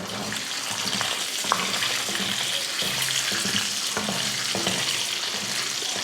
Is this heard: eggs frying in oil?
yes